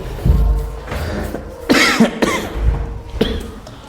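A person coughs several times in quick, harsh bursts close to the microphone, with a couple of rougher hacks in the middle.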